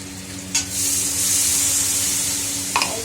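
Food with coriander leaves fries in a pan, giving a loud, steady hiss of sizzling with a couple of sharp stirring scrapes at the start and end.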